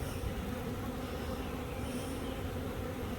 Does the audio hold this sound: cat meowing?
no